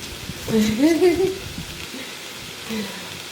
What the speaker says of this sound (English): Look, it's already sizzling.